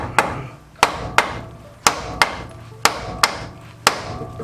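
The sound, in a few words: hammer blow while changing a Peugeot clutch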